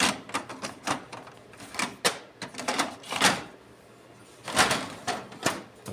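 A toner cartridge pushed into a Ricoh MP C2503 copier gives a series of sharp plastic clicks and scraping knocks in uneven bursts, close up, with a short pause before a final cluster of clicks.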